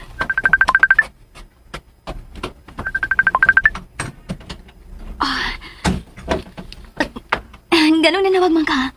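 Two quick runs of telephone keypad dialing tones beep rapidly in a radio drama, followed by clicks, rustling and door-like thuds, with a loud rising electronic tone near the end.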